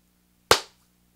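A single sharp hand clap, loud and close, snapping out once with a short decaying tail in an otherwise quiet room with a faint low hum.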